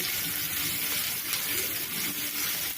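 Onion dropped into a hot pan for tomato thakku, a close, steady crackling sizzle that holds evenly through a short moment, with no talking.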